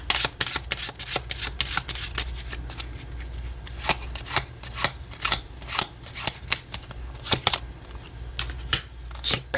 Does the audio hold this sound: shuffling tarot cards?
yes